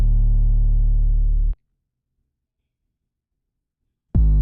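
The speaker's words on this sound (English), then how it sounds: "Get your 808s." Deep 808 bass drum hits from a trap beat: one long, booming sustained note that cuts off abruptly, then silence, then a second hit starting near the end, loud and clean with no other sounds.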